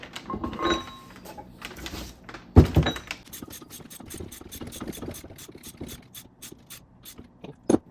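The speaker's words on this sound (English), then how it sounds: "gonna tighten it slow so we don't over tighten it" Slow tightening of the differential pinion nut on a Triumph TR6, close mechanical ratcheting clicks in a rapid regular run after a couple of heavier metallic knocks, with no talk.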